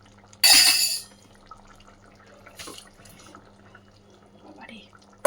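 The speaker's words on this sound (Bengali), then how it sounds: "এই সময় চালটা দিয়ে দেবো।" Grains of rice tipped into a pot of simmering, partly dissolved dal for khichuri, giving a brief loud pouring splash near the start, then quiet kitchen background with small faint stirrings.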